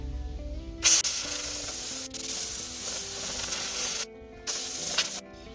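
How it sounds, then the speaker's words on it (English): Compressed air blasts dust from the cracks of a Suzuki Let's 4 scooter mudguard, several long, loud, steady hissing bursts close by, with brief gaps between them and no talk. "Just to make sure I get any dust in any little cracks, I'm going to use a bit of air."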